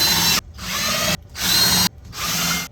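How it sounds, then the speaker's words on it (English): A power drill drives screws into pilot holes in a wooden birdhouse, heard as three close, sustained whirring bursts separated by short silent pauses, with no talking. "Let's go ahead and finish the last 4 pilot holes. And we will set those screws."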